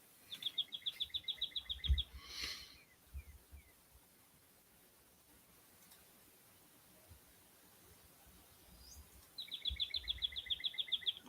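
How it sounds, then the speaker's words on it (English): Birds chirp outside a patio door in quick repeated trills at the start and again at the end, fairly distant over a soft background hiss. "I have a bird sanctuary outside"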